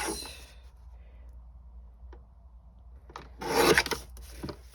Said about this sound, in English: I'm just going to trim till I feel like he's got even borders.